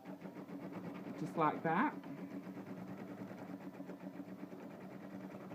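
An embroidery sewing machine stitching fabric on stabilizer, a low steady mechanical hum and rapid needle rhythm running throughout, briefly overlaid by someone speaking close by.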